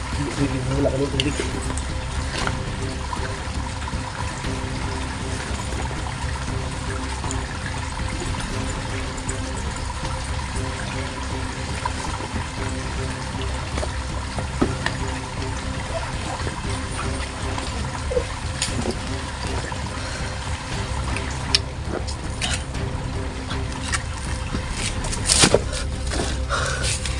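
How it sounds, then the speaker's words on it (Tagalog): Water pours and trickles steadily as it is scooped up from a creek, a constant rushing wash close by, with a person talking over it. "Nag-iigib ako ng tubig"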